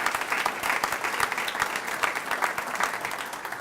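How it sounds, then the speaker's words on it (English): A crowd at a portrait unveiling ceremony for N. Kent Lawrence applauds with dense, steady clapping held for several seconds, moderately loud and without talk. "So let's give them a round of applause for doing this."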